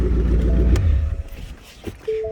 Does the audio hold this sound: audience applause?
no